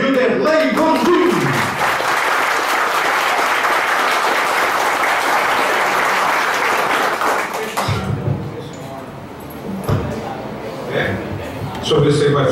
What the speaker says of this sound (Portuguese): eu quero convidar e que vocês aplaudam com muita força ele, Dr. Gilderlei Gondim